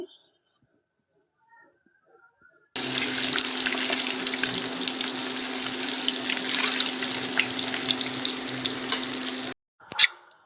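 Eggs frying in a pan with turmeric, salt and chili powder for an egg masala curry; a sudden loud, dense sizzle starts after a quiet opening, holds steady for about seven seconds, then cuts off, followed by a brief clatter.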